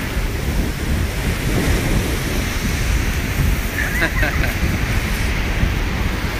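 Ocean waves wash steadily onto Santa Monica Beach with a constant rushing surf and wind noise, loud and close. A voice speaks briefly over the waves partway through.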